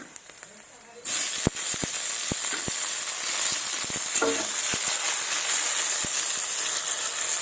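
Chopped tomato drops into hot oil in a pan for a fish curry with eggplant and coriander, setting off a sudden loud, steady sizzle that continues with scattered clicks of stirring.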